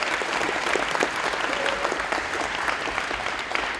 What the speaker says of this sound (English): Let's have a round of applause for those young men.